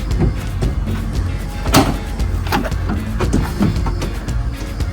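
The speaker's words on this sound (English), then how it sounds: "We'll first open up the doors." The rear doors of a 2023 Ford Transit wheelchair van with a BraunAbility power fold-out platform lift are opened, with a sharp latch clunk and handling rattles over steady outdoor background noise.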